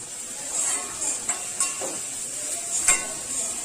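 Salted potatoes and onions are stirred in a frying pan for a bhaji, giving a soft, steady sizzle with a few light scrapes of the spoon against the pan. No one speaks.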